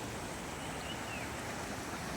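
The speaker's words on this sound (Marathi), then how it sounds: "हे बघा मित्रांनो उकळ सुटलाय फार पाण्याचा. एवढं फास्ट पाणी येतंय मित्रांनो" Fast-flowing floodwater rushing through a swollen river near flooded rice fields, a dense continuous roar filling the whole stretch with no voices.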